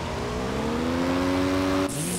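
A motorcycle engine revs in a motocross video game, a loud, sustained engine drone whose pitch climbs steadily before cutting off abruptly near the end, heard alone.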